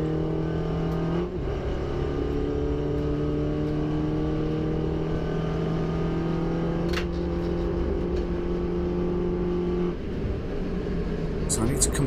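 Mini Cooper S race car engine at Donington Park, racing in the 2018 Mini Challenge: a loud, steady in-car drone holding one pitch for long stretches, with a gearshift near the start and another near the end.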